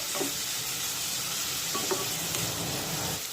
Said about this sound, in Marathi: कांदा परतत असताना गॅसची फ्लेम मध्यम ठेवली तरी चालेल आणि कांदा सतत परतत राहायचं